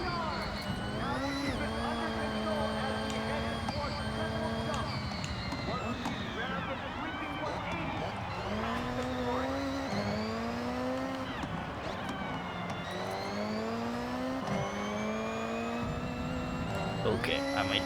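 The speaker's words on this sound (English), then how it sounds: "listen to that supercharger" Supercharged car engine in the Forza Horizon 6 racing game, heard from the interior view, revving and climbing through gears with a continuous whine, loud and steady throughout while a voice talks over it.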